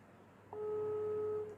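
A steady electronic ringing tone sounds alone for about a second, clear and close, with a faint hum beneath it.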